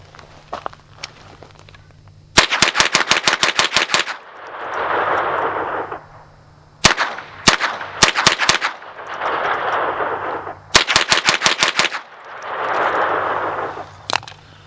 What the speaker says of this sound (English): So I'm going to start off with the CCI ammo, and then I'm going to shoot some Remington Golden Bullets.